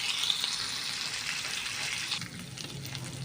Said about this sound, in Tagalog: Pagkagisa ng bawang, sibuyas at ng tapa